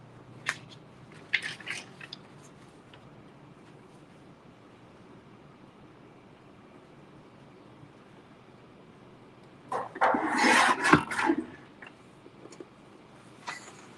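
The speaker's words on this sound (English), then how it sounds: "Get our vellum, and we're going to just trim off the selvage bit" Scissors or a trimmer cutting the selvage edge off a sheet of vellum paper during cardmaking, a short burst of crisp cutting and rustling, with faint handling clicks before and after in a quiet room.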